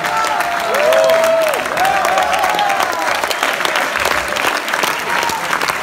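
A festival audience applauds a comedian with steady, loud clapping that swells early and then holds, a dense crowd sound with a voice briefly rising over it at the start.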